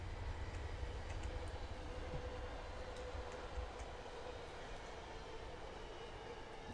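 An MBTA commuter train in a train simulator game rumbles past steadily, a low continuous rolling with faint rhythmic clacks and a thin high whine, no voices.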